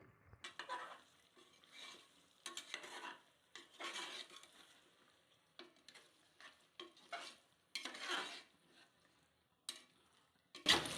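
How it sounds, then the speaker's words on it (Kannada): Mushrooms with tomato and spices frying in a pan, with intermittent bursts of stirring and scraping over a quiet sizzle, separated by short lulls, ending in a sharp clink, and no talking. "ಒಂದು 2 ನಿಮಿಷ ನೀಟಾಗಿ ಫ್ರೈ ಮಾಡ್ಕೊಳ್ತೀನಿ"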